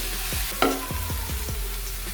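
Chicken spring roll filling cooks in a pan, with a steady close sizzle and a few sharp stirring scrapes and clacks of a spoon against the pan. No one speaks.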